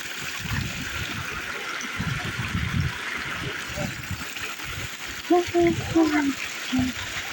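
Water streams steadily from the 108 spouts of the Triveni Dham shrine in Hetauda, a continuous broadband rush, with people talking briefly over it near the end.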